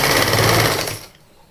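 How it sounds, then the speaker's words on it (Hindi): A sewing machine stitches folded fabric for a puff sleeve, a loud steady mechanical whir that runs for about a second and then stops abruptly, leaving near silence. "इस चीज़ को ऐसे फोल्ड करके यहाँ लगा के और हम इसे सिलाई लगा देंगे ऐसे"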